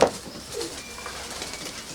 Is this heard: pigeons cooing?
yes